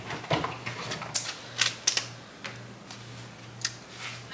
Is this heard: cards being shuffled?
yes